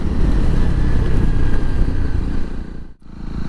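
Loud, steady motorcycle exhaust drone from a Honda CRF300 Rally fitted with an aftermarket exhaust, riding along a country road; continuous engine roar with a brief dip near the end.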